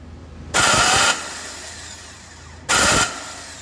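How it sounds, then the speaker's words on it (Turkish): A car engine with damaged timing gears is cranked by its starter in two loud, harsh bursts of about half a second each, separated by a quiet pause. "Çalıştır aracı."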